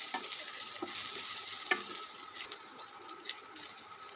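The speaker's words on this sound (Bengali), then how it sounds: "এখন দিয়ে দিলাম এক চামচ মতো গোটা জিরে এক চামচ কালো সর্ষে আর কিছুটা আদা কুচি" Whole cumin, black mustard seeds and chopped ginger fry in a pan for a moong dal, making a steady close sizzle broken by occasional stirring scrapes and small pops, with no talking.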